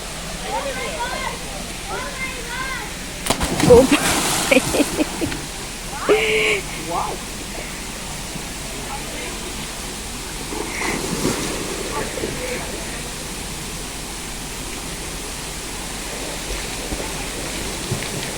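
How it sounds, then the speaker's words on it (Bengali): A hillside waterfall at a nature resort sends a steady, broadband rush of falling water, with people talking over it and bathers nearby adding occasional splashes and voices. "কোনো ঝর্ণার থেকেই জলটা আসছে। আচ্ছা, ওই সাইডটাতেও রয়েছে যেসব স্নান করছে, ওই সাইডটায় ওই ঝর্ণার থেকে আসছে, ওপরে পাহাড় থেকে।"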